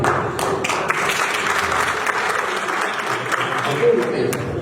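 Audience applause in a hall before a poem recitation, dense steady clapping from a crowd lasting several seconds with voices mixed in.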